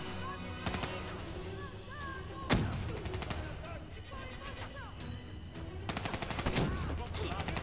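Bursts of gunfire from weapons with heavy recoil in the Black Ops 3 campaign, rapid repeated shots and sharp loud cracks mixed with game effects, with someone talking over it.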